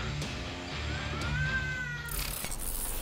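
A cat bitten by a Komodo dragon lets out a single drawn-out, wavering yowl near the middle, moderately loud over a steady background rumble, with a thump toward the end.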